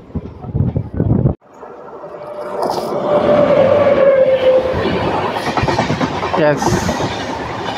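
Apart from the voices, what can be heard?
passing Vijayawada–Lingampalli Intercity Express train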